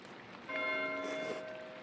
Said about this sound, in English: Why is Mathieu ringing the bell?